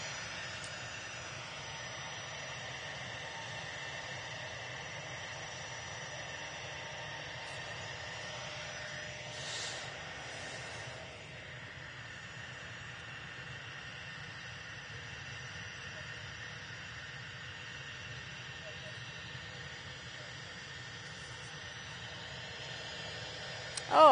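An RAF Envoy IV aircraft departs from an airport, heard as a steady distant jet engine roar that swells briefly midway, then holds as a faint constant rumble and hiss.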